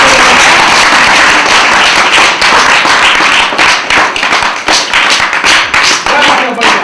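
Loud, close clapping rattles on in a dense, sharp patter at a school gathering, with voices blending into the rapid hand claps.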